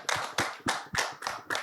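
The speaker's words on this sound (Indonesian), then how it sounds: "Ya, beri tepuk tangan." Six sharp, evenly spaced claps ring out close and loud at an Indonesian youth forum, each a crisp broadband burst following a welcome for a national youth organization leader.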